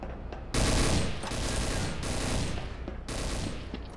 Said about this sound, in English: that sounds like you're frantically shooting a bench